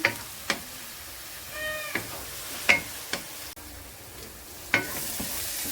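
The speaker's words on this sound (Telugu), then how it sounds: "ఉల్లిపాయలు అయితే బాగా వేగాలండి వేగే వరకు మనం ఫ్రై చేసుకుందాం" Onions frying in a pan for a prawn and cashew fry: a soft steady sizzle broken by several sharp knocks and scrapes of a spoon, with a brief cat meow partway through.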